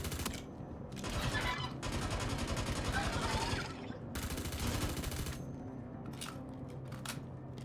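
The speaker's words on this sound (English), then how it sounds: "I can hear turrets firing" Ship turrets in Star Citizen fire in long sustained bursts of rapid gunfire at a distance, quiet and muffled, with short pauses between volleys.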